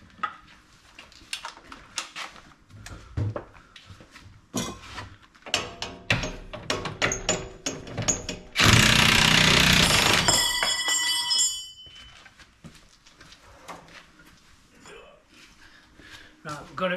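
Impact gun hammering at a seized bolt on the front lower wishbone of a Land Rover Discovery 3, one loud dense burst of roughly three seconds midway through, surrounded by clanking tools and someone talking.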